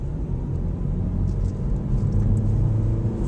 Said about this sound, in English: So we begin to put it in gear 1 and start accelerating.